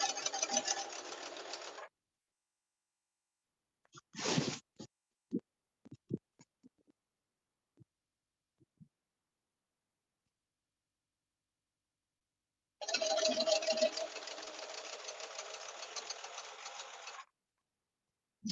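A sewing machine stitching a dress waistband seam: two runs of fast, steady mechanical whirring, one brief and one about four seconds long, with scattered clicks and handling taps between them in a quiet room.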